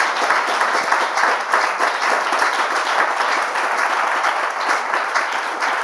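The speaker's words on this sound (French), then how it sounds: "On peut l'applaudir" Steady, dense applause from a gathered congregation fills the room at an even volume throughout, with only faint traces of voices underneath.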